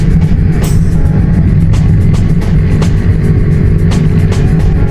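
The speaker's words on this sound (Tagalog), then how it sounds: "Kung naririnig niyo yun, yung tunog ng tambutso ko" Loud, close car exhaust running through a muffler, a continuous dense rumble held steady for the whole stretch with faint clicks and ticks on top and no talking.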